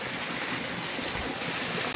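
Steady rain falls outdoors at a farm, a dense, even hiss that holds unbroken for the whole stretch, with no voices.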